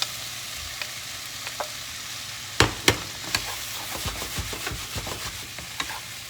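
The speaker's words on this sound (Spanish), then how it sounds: "Lo removemos con cuidado para que no se rompan los tacos de salmón" Salmon cubes and vegetables sizzle in a pan with a steady frying hiss, broken by a few sharp utensil scrapes and taps as the mix is stirred gently.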